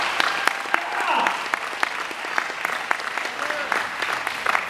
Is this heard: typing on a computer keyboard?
no